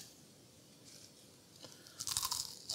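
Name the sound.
crunchy thin spiralized fries being chewed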